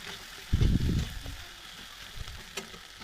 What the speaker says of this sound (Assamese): মেছ কৰি লোৱা আলুখিনি দি দিম আৰু ভাজি ল'ম ইয়াক